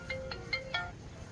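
A mobile phone ringtone chirps in four quick, evenly spaced bursts of electronic tones over a low background hum, fairly faint and with no one talking.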